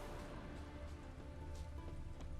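Rain falling in the video game The Witcher 3: Hearts of Stone, a continuous soft hiss of drops hitting surfaces, faint and steady with a few slightly louder splashes.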